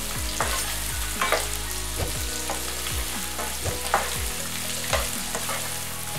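Onions sizzle and crackle in hot oil with garlic for ginisang mongo, a steady loud fry broken by repeated scraping stirs of a utensil against the pan, with no voices.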